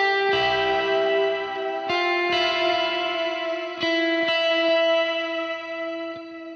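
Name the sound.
electric guitar with effect bypassed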